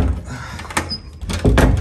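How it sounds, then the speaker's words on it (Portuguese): A door that will not close is pushed repeatedly, giving several dull thumps and knocks in a row. The thuds are loud and close, with scraping in between. "A porta não fecha."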